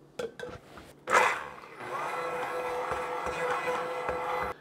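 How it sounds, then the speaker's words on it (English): A handheld stick blender mixing Caesar dressing with Worcestershire sauce starts after a few clicks and knocks, then whirs steadily at moderate volume for several seconds. "I'm just gonna take my stick blender, drop it in."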